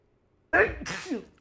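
A single sharp sneeze bursts out after a moment of quiet, close to the microphone and followed by a brief exhaled tail.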